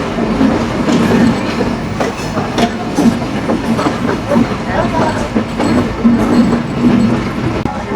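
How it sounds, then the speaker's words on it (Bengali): Kapotaksha Express passenger train rolling into Poradah Junction station in Kushtia, Bangladesh, a steady loud rumble with rhythmic clickety-clack of wheels over rail joints throughout, close by. "কপোতাক্ষ এক্সপ্রেস ট্রেনটি প্রবেশ করছে বাংলাদেশের প্রথম রেলওয়ে জংশন পুরাদহ জংশনে"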